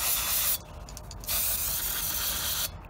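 Brake cleaner sprayed onto starter motor parts during a repair, two loud close hissing bursts separated by a short pause, with a third burst starting at the end.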